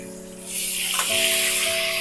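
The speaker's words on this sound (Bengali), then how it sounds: "তেল গরম হয়ে গেছে, এই তেলের মধ্যে পটলগুলো তুলে দেব।" Pointed gourd (potol) slices dropped into hot mustard oil burst into a loud, steady sizzle that starts suddenly and keeps hissing close by, over a faint background hum.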